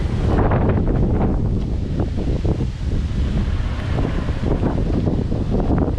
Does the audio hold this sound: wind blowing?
yes